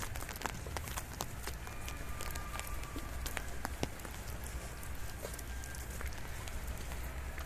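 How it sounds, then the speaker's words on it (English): Rain falls steadily in Manali, a faint, even patter of drops with scattered sharper ticks on nearby surfaces, continuous and unaccompanied by voices. "It's raining."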